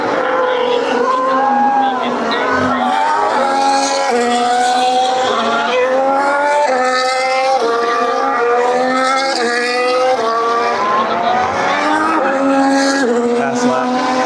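A Formula 1 car screams through a fast lap at the Circuit of the Americas in Austin, its high engine note rising through the gears and dropping on downshifts, loud and continuous with crowd noise underneath.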